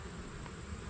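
Honey bees in the food section of a 10-frame hive give a steady, dense buzzing hum, close and continuous, with no talking.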